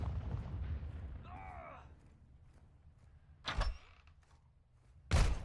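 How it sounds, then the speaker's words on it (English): Friendly airstrike explosions in a shooter video game, two sharp distant booms a couple of seconds apart, with fainter rumbling and other game sounds between them. "Friendly airstrike in the AO."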